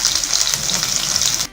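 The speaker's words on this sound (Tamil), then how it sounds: "நல்லா ஒரு ப்ரௌனாக ஆகிற வரைக்கும் இதை பொரிக்கணும்" Ginger and garlic frying on low heat in sesame oil in a pan give a steady, close, bright sizzle and crackle that runs unbroken and then cuts off abruptly.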